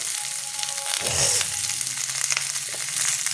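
Dried fish with onion, chilli and tomato frying in a pan, giving a continuous close sizzle with a brief thump and rustle near the start as the food is stirred, and no talking.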